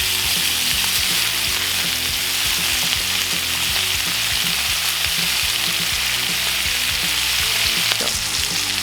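Butter and rosemary crackle and sizzle loudly in a hot pan alongside steak, a dense continuous frying hiss with a faint regular ticking underneath and no voices.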